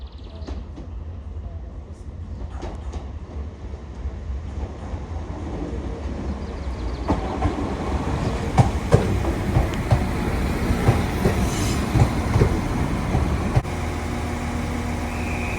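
A train rumbles into a station in Northern Ireland, a steady low roar growing with squeals and clanks of the cars, brakes hissing near the end.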